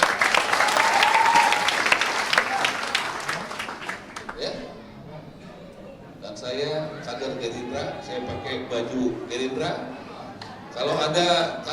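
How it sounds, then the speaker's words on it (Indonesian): Crowd applause for the Gerindra party at a political event, loud and dense for the first few seconds, then fading into scattered clapping and cheers beneath someone speaking, with another burst of clapping at the end. "Tepuk tangan buat Gerindra."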